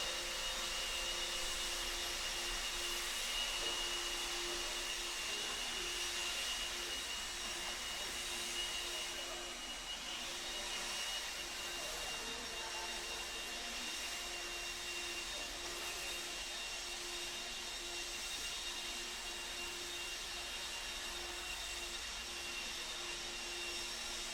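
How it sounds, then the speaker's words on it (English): Marshals' leaf blowers run after a race, a steady, loud, unbroken whine and rush of air that holds for the whole stretch with no clear pauses. "Marshall's going to grab those blowers. Start blowing off your airers for me, please."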